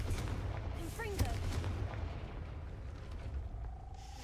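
Fire spell blast cast with Confringo near a gate in the game Hogwarts Legacy, a fairly quiet burst with whooshing sparkle effects and a short thump, followed by low rumbling ambience.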